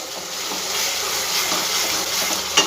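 Spice masala frying in an open pan on a home stove gives off a steady, soft sizzling hiss that stays even throughout, with no one talking.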